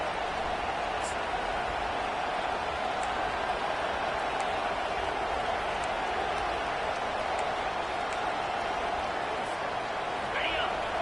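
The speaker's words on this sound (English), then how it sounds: "This crowd bringing the energy and noise early." A packed football stadium crowd roars in a steady, dense wash of noise throughout, loud and unbroken, with a commentator's voice partly audible under it.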